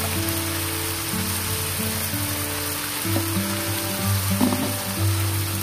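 Fried tempeh and green beans sizzle in a pan of sambal, a steady close crackle with a soft bubbling rise and a few scrapes near the end.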